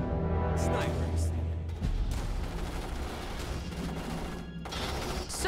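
Gunfire in the video game Starship Troopers Terran Command: a dense, continuous fusillade of rifle and artillery blasts rolling through the whole stretch, with voiced unit chatter layered over the battle.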